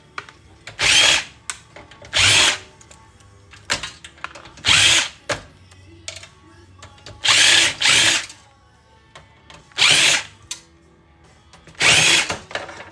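Power drill backing screws out of old electronics being scrapped, in repeated short bursts of about half a second to a second, each separated by a brief pause, loud and close with no talking.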